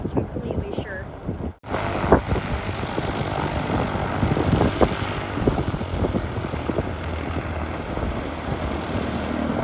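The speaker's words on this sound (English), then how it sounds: "Right here we got this Cessna. Looks like a 172." A Cessna 172 propeller airplane at a local airport during a nearby wildfire, its engine drone steady and fairly loud over gusty wind noise on the microphone, with a voice talking over it.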